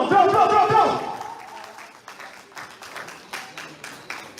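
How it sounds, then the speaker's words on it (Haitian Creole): Applause from an audience at a church music event, a swell of clapping and crowd noise under a lingering sung or amplified tone, tapering to scattered claps. "Et nous avons un gros applaudissement"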